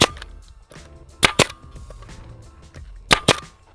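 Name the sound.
staple gun shooting staples into a motorcycle seat cover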